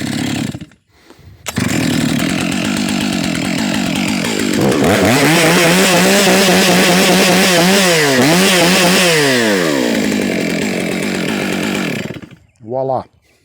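A chainsaw is pulled to start, then runs loud and close, revving up and down in bursts before cutting off, with a short blip of engine noise just after it stops.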